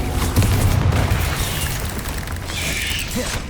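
Confringo and Incendio spell blasts in the Hogwarts Legacy video game on PS5, a dense, loud barrage of booming impacts and mechanical rattles layered over continuous rumbling combat noise.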